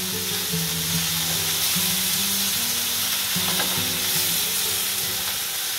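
Swordfish fillet sizzling steadily in a hot pan just after being flipped, a continuous close frying hiss with low background hum and no speech.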